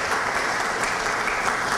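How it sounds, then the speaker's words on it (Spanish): Audience applause at a municipal public accountability event welcoming the mayor of Miraflores, a steady dense wash of clapping at moderate level with no voices. "Recibámoslo con un fuerte aplauso."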